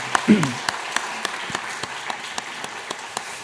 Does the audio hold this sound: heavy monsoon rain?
no